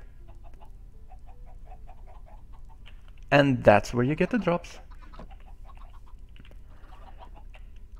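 Chickens in a Minecraft automatic chicken cooker farm, a burst of several close, loud game clucks lasting about a second, under quiet background noise with someone talking over it.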